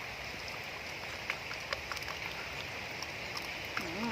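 Rain falling outdoors during a seafood meal: a soft, steady hiss of rainfall with scattered faint drop ticks, low in level and continuous throughout.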